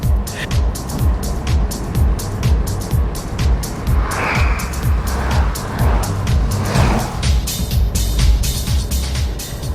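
Car driving along a countryside road past villages and farms in Thailand, a loud close cabin rumble of engine and tyres with rapid rattling clicks on top, steady throughout.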